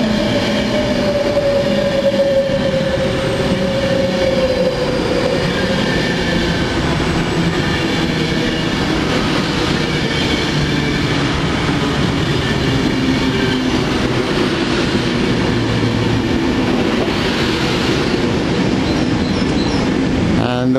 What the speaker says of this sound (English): Another Pendolino coming in from London.